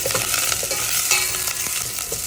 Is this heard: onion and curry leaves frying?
yes